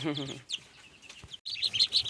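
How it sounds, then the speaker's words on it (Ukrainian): Short clucks and chirpy calls from nearby bantam chickens, young roosters and a hen, feeding, with a brief pause mid-way before high-pitched peeps resume; no talking. "лишилися в мене тільки такі півники тут і одна курочка"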